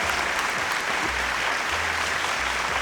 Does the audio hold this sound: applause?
yes